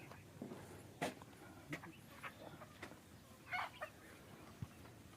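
Soft, scattered clucks from free-range chickens at moderate distance over a quiet outdoor farm background, a few short calls spread across the stretch.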